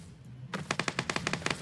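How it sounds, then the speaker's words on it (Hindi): Rapid gunfire in PUBG PC Lite hits the player. A short, loud automatic burst of about ten evenly spaced cracking shots follows a brief quiet moment. "गोलियां पड़ रही है मेरे को"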